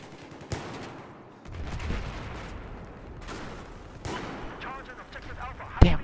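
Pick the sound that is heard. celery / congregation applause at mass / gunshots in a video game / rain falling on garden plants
gunshots in a video game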